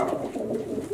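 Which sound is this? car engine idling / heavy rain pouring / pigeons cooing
pigeons cooing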